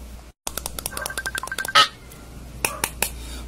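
A mobile phone rings with an incoming call, a run of rapid electronic beeping tones in bursts, fairly close and alone, with a brief louder blip midway.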